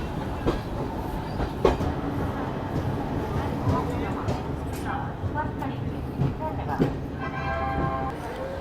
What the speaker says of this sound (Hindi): और ये है उत्तर संपर्क क्रांति एक्सप्रेस जो कि काठगोदाम से नई दिल्ली के बीच में चलती है